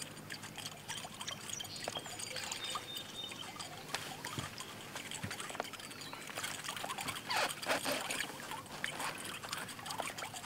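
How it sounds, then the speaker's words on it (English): A topwater musky bait, a spastic-action lure, churns and splashes as it is worked through the water, with steady gurgling, pattering bursts and no talk. "You can hear that bait coming through the water."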